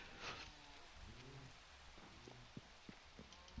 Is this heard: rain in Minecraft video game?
yes